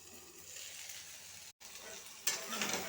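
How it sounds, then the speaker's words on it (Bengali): Eggplant fries in oil in a home kitchen with a soft, steady sizzle. A brief gap interrupts it, and it returns with a louder, brighter crackle near the end. "বেগুন ভাজা হয়ে গেছে।"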